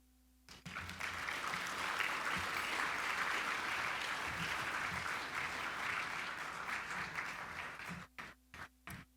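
A ceremony audience in the Tampa Bay region applauds Representative Castor at a Florida Inventors Hall of Fame event, with dense, steady clapping that swells quickly and holds for about seven seconds before breaking into a few scattered final claps.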